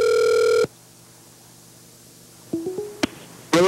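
A telephone rings on a call to a grandmother: one loud electronic ring tone, then a pause, a few short beeps and clicks, and the start of the next ring.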